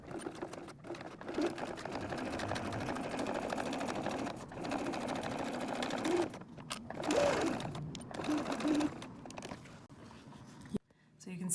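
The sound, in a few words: sewing machine stitching a cork wallet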